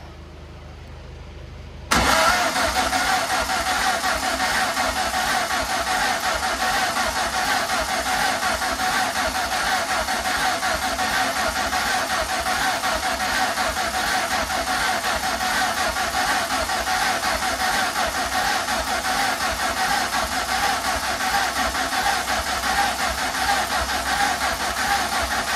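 A Ford Fiesta MK1 engine is cranked over with no spark, a loud steady mechanical churn that kicks in abruptly after about two seconds of quiet and holds unbroken to the end.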